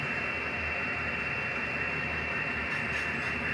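A small HO scale model grain train runs steadily with a continuous whirring hum and faint rail noise, with no voices.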